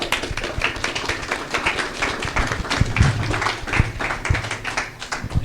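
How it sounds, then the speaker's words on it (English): A small audience at a professional panel on construction and property development claps for the panelists, a close, uneven patter of hand claps that stays busy and loud throughout. "Could we get a round of applause for our panelists?"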